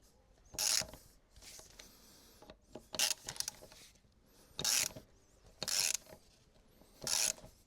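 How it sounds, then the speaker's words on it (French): Ratcheting bursts of a chain riveting tool being tightened to crimp a link on a Ducati Monster motorcycle chain, five or six short harsh clicking pulls separated by quieter pauses, close by with no talk. "Quand on va serrer les deux vis là, ça va venir écraser le maillon."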